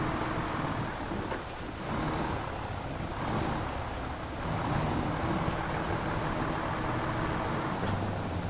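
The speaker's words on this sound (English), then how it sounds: "Rain kicking in." Steady rain and rolling thunder in the off-road driving game Snowrunner, a dense continuous downpour with low rumbles swelling throughout, loud and enveloping with no voices.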